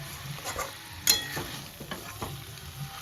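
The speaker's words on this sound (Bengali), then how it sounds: "পটলটা দিয়ে আরও 5 মিনিট কষিয়ে নেব।" Pointed gourd (potol) with potato and spices stir-fries in a pan, a soft continuous sizzle broken by a few close scraping stirs and one sharper clack.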